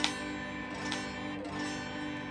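A G bar chord is strummed on guitar, ringing out with a sustained chord after a sharp opening strum and a lighter second stroke, close and alone.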